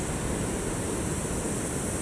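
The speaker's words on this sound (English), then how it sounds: "maybe you can hear the sounds, the subtle sounds of the waves" Steady, even rush of ocean waves at sunset, a broad continuous surf wash with no distinct breaks, loud and alone.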